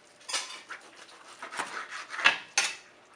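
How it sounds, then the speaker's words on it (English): A knife saws through the point of a smoked brisket in a few short rasping strokes, close and fairly quiet, each stroke a brief scraping burst with small gaps between. "To cut the point, you turn it and cut right through the middle."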